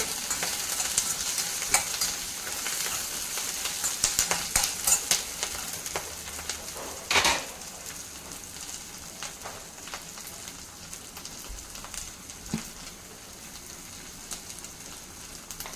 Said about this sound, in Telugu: ఒక 4 వెల్లుల్లిపాయలు చితకొట్టుకుని వేసుకుంటున్నాను. ఇవి కూడా కొంచెం ఫ్రై అవ్వాలి.